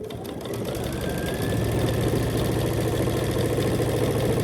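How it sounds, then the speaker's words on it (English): Sewing machine stitching down the binding on a Grinch quilt, a steady continuous motor hum with rapid needle rhythm that grows slightly louder after the first second and runs throughout. "And when I turn it, I just start stitching down this side"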